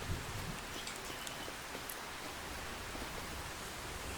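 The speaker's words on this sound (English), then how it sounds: "Oh, it's raining." Steady rain in the Farming Simulator 25 video game, a dense even hiss of drops on a surface that runs unbroken for a few seconds with no voices.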